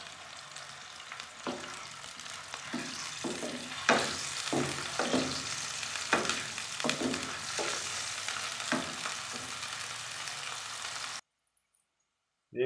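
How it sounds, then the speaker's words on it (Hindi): Onions sizzle in hot oil in a pan, with a constant frying crackle and repeated scraping clatters of a spoon stirring them, then silence at the end. "हम डालेंगे इसमें प्याज। और इसको लाइट ब्राउन करेंगे प्याज को"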